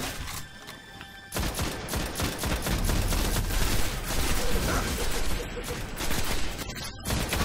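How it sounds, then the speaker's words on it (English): Gunfire in the video game Destiny: a sustained burst of rapid shots and overlapping fire lasting several seconds, loud and dense, with game effects mixed in. "somebody's taking pot shots"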